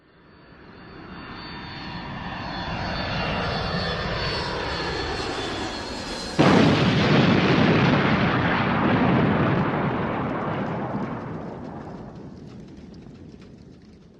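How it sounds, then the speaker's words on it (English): A Boeing 737 crashes: a loud airliner engine roar builds and sustains, then a sudden heavy impact bursts into a broad rumbling crash that slowly fades out. "We just had a plane crash 1 kilometer northeast of Cascade Shores. Boeing 737."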